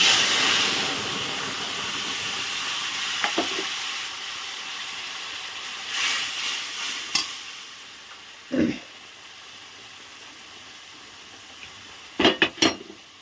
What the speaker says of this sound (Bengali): এবার দিয়ে দিব জিরে গুঁড়ো লঙ্কা গুঁড়ো ধনে গুঁড়ো আর হলুদ গুঁড়ো